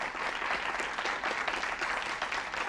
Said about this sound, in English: let's give a big round of applause to Hollywood Hills and Stoneman Douglas